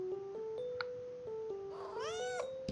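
A cartoon cat meows in The Cat Games, a rising-and-falling yowl near the end, heard over steady game music with a few short chime effects.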